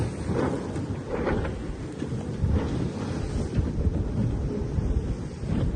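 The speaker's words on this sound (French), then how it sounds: "on a retrouvé du vent, c'est plus comme ce matin" Strong wind roaring over a sailing boat out at sea in the trade winds, a steady, loud rushing with gusty buffeting against the microphone and low rumbling underneath, with no one talking.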